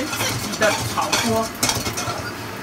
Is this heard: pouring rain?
no